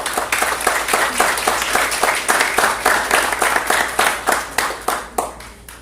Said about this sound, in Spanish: quiero que le demos un aplauso a nuestros invitados